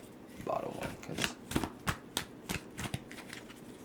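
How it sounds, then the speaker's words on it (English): Tarot cards are shuffled from the bottom of a small spread, giving a series of crisp riffling snaps with short regular bursts that repeat close up, and a voice speaks faintly near the start. "I'm going to shuffle the bottom one"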